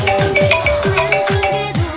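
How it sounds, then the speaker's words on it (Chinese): A mobile phone rings with an incoming call, its ringtone repeating short rhythmic melodic phrases about every quarter second, loud and close with no talk over it. "罗西来电话了"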